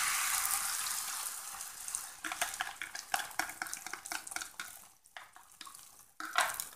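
Egg yolk being mixed in a bowl in a home kitchen, heard as a run of quick scraping and clinking stir strokes against the bowl, close and moderately loud, with frying sizzle and running-water noise behind and no talk.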